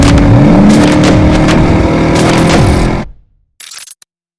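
A dark shadow gray 2003 Ford Mustang Mach 1 with a 4.6 V8 and 5-speed manual on a test drive, the engine loud and close as it revs up with rising pitch, then cutting off abruptly, followed by brief clicks.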